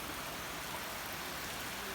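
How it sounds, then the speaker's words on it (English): Heavy rain falling outdoors, a steady, even hiss of downpour with no voices, faint and constant throughout. "but actually rain is falling now."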